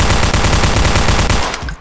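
An MP5 submachine gun fires a continuous rapid burst in the video game Blockade, loud and close, with steady evenly spaced shots before cutting off.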